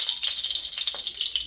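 Snails (gugli) frying in hot oil in a pan, a steady bright sizzle with occasional soft pops and stirring taps.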